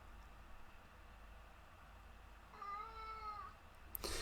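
A single drawn-out cat meow rises clearly over a low steady background rumble, close by, followed by a brief click.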